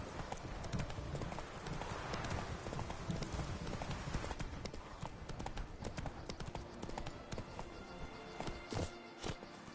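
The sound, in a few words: horse Roach's hooves clip-clopping, from the video game The Witcher 3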